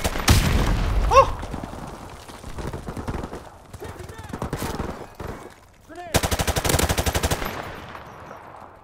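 Video game firefight with rapid automatic gunfire bursts and heavy shots, loud and close, mixed with game radio lines and player chatter throughout.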